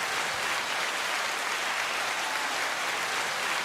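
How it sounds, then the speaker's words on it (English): Steady applause for a guest on a coastal talk show, a continuous dense wash of clapping that holds at an even level from start to finish with no voices over it. "let's give him an applause"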